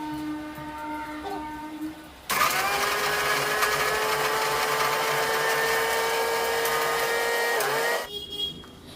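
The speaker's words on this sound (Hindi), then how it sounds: "एक मिक्सर जार ले लेती हूँ और इसमें इसको पाउडर फॉर्म में कर लेती हूँ बिस्किट को" A mixer grinder jar grinding biscuits into powder starts abruptly after a quiet moment, running as a loud, steady, high whirring whine for about six seconds before cutting off.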